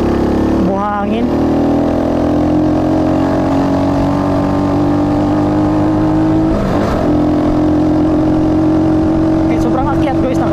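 A Rusi Flash 150X motorcycle engine labors uphill in 4th gear with a loud, close, sustained drone that rises slowly in pitch, with brief shifts in the note along the way and a person talking over it.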